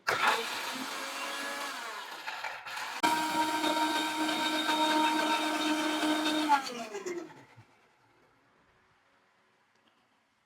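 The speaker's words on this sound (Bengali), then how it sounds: "আমি প্র্যাকটিক্যালে দেখা দিচ্ছি পেঁয়াজ পেস্ট করে" An Asian Hotel King 1200W mixer grinder making onion paste whirs loudly with a steady motor whine, briefly stops and restarts, then runs again before cutting off into near silence.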